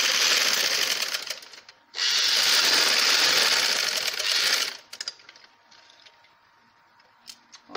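A sewing machine stitches a fairy frock, running in two steady whirring bursts of about two to three seconds each, separated by short pauses, followed by quieter handling clicks.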